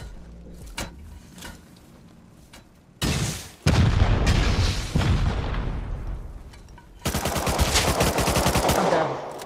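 Bursts of AK rifle fire in the video game Rust, with loud rapid automatic volleys and heavy booming impacts broken by short pauses, ending in a long sustained stream of shots.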